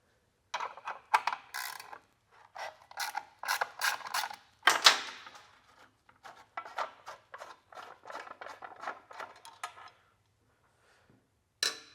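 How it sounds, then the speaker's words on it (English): Torx T30 driver and hand tool work removing side brackets from an S550 radiator plate: a run of clicking, creaking mechanical bursts and small metal clatters, close and fairly loud, with no talk. "we're going to remove the side brackets from the radiator plate. We have a T30 on each side."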